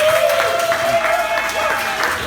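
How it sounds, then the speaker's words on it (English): An audience at a cigar shop and lounge soft opening claps in a steady, dense burst of applause, close and fairly loud, mixed with a few faint voices. "Everybody give him a round of applause."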